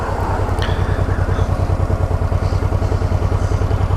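Honda NT700 Deauville motorcycle engine running on a Scottish Highlands and Hebrides road trip, a loud, steady, low rhythmic thrum with a slightly thumpy pulse and no talk over it.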